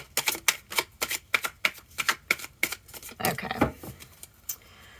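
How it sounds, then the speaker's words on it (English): A rapid run of crisp clicking snaps, then a brief fluttering riffle of cards being shuffled, close and fairly loud. "Okay, one more shuffle."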